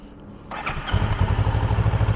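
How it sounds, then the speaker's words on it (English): A 2018 Kawasaki Versys 650 motorcycle fires up: a brief starter crank, then the engine catches and settles into a close, throbbing, pulsing idle. "we need to fire up the bike and make sure there is no gas leaks"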